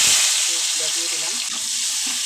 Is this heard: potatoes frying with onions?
yes